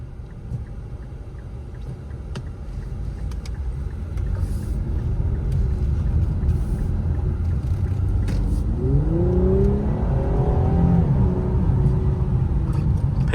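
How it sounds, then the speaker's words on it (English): A 2022 Infiniti Q60 Luxe with a 300-horsepower engine accelerates from inside the cabin, a low rumbling drone that swells and rises in pitch as it picks up speed, with no talk. "Picks up speed pretty quickly."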